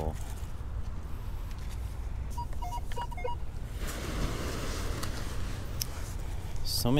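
A metal detector sounds several short, high beeping tones in quick succession over steady outdoor wind and rustling noise on a Vancouver beach.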